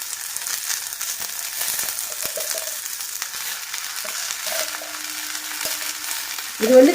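Curry leaves being sautéed in a pan for a Tamil curry-leaf thokku, a steady low frying sizzle with faint stirring scrapes throughout, then a sharper burst of crackle right at the end.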